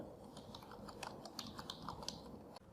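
Keystrokes on a computer keyboard as a command is entered, a quiet run of soft clicks with a few sharper taps over a low background hum.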